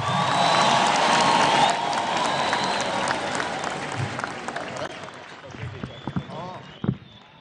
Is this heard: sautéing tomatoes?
no